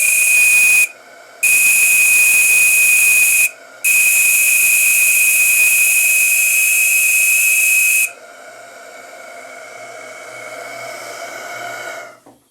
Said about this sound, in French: c'est ce magnifique sifflet